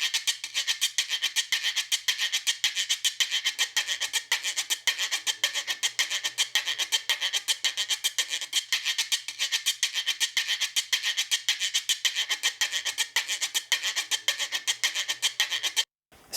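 Latin percussion stick scraped in a steady, rapid rasping rhythm, heard as a recording with a thin, bright, high-end character, continuous and fairly loud for the whole stretch.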